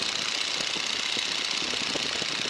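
Boeing Stearman biplane engine running in flight while climbing, a loud, steady radial-engine drone with a rough, throbbing texture filling the cabin, continuous and without talk.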